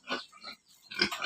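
Fattening pigs give a few short, close grunts in quick succession.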